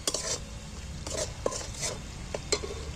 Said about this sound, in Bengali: এবার আমি মশলাটাকে আস্তে করে এর মধ্যেই কষিয়ে নেব।